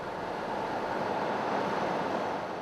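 A river with a strong rushing current runs beside a narrow road, heard as a loud, continuous, dense roar of water with no talking.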